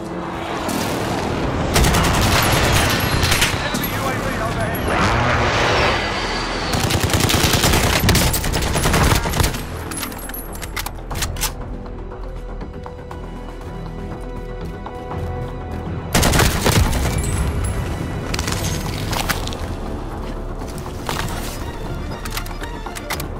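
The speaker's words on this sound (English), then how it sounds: "friendly precision airstrike inbound" A precision airstrike pounds the area in a battle royale shooter, with heavy explosions and dense bursts of machine-gun fire arriving in loud waves, separated by quieter stretches of distant shooting.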